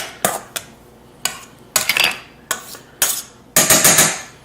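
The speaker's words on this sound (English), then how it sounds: "we kind of cut the shortening with the knife just to get it into fairly small pieces" A knife chops and scrapes through shortening in a bowl for pie crust pastry, giving a series of sharp, close clinks and scrapes spaced irregularly, some in quick clusters.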